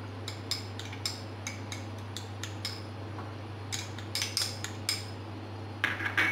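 A spoon clinks and scrapes against a bowl while maida and cornflour are mixed for crispy egg spring roll batter. The taps are light and irregular, in short bursts over a low steady hum, with no talking.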